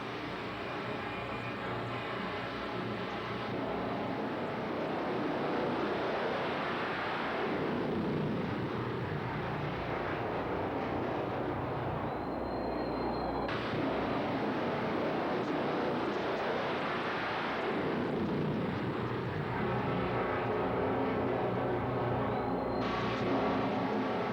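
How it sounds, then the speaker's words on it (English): Bob Moses' Kenworth jet truck at a drag strip, its jet engine roaring loudly in long swelling passes, with rising and falling whines and a sharp cutoff midway before the roar returns. "Bob Moses' incredible jet truck"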